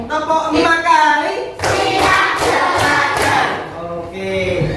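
Classroom pupils clap together five times in a quick, even series of sharp, close hand claps, with a teacher speaking before and after.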